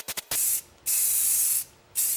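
Aerosol paint sprays a coat onto 1991 Club Car DS golf cart parts, with a few quick taps and then three long steady hissing bursts separated by brief pauses.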